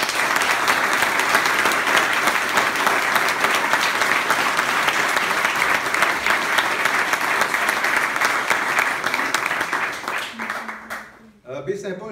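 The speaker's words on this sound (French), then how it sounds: "Alors, par applaudissement, envoyons-lui nos énergies positives." A large audience applauds at a comedy show in Baie-Saint-Paul, Charlevoix, sustained dense clapping that holds steady and loud before fading out near the end.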